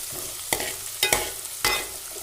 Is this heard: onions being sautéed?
yes